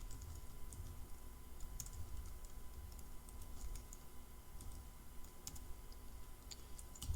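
Someone types on a computer keyboard, a quiet, irregular run of key clicks with short pauses, alone without talk.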